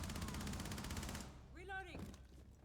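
Rapid automatic gunfire from Rainbow Six Siege, a dense, steady stream of shots for over a second, followed by a brief warbling game effect and background noise.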